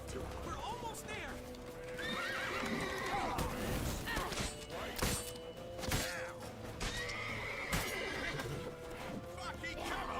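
Horse whinnies and neighs mixed with clip-clopping hooves, fairly loud, layered under a speaking voice and a busy soundscape from the video game The Witcher 3.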